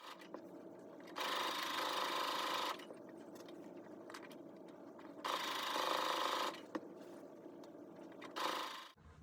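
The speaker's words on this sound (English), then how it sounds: "I'll be sewing 1/4 inch on the sewing machine" A sewing machine whirs in three bursts of rapid quarter-inch stitching joining fabric pieces, separated by quieter pauses, close and steady.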